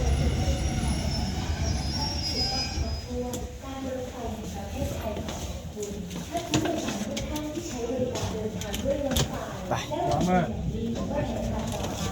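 A train arriving at Buriram railway station in Thailand, its wheels squealing against the rails under steady rumbling, with people talking over it throughout.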